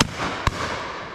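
A shotgun fires at pheasants on a driven shoot at Downton, one sharp outdoor report with a rolling, fading tail.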